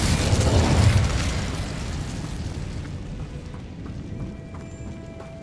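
Incendio fire spell in the video game Hogwarts Legacy, a loud whooshing burst of flame that roars then slowly fades into a crackling hiss, with faint chiming tones lingering as it dies down.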